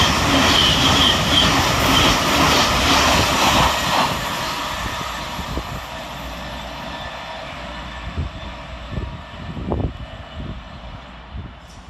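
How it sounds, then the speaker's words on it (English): A Govia Thameslink Class 700 electric train runs through Hassocks station, its loud rolling roar and wheel squeal fading to a lower rumble, with a few clanks and knocks as it moves away. "Running 13 minutes late for Govia Thameslink is 700 126, working 9 Sierra 35 from Cambridge to Brighton."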